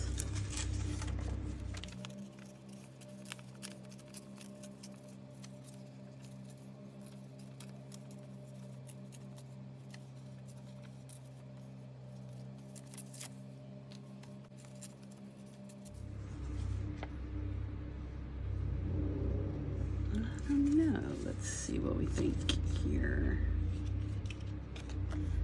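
Paper being torn for a junk journal cover, heard as close crinkling rips and rustles in the latter part after a steady background hum, with no talking.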